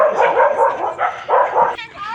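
Dogs bark close by in short, loud bursts, several quick barks in a row with brief gaps between them.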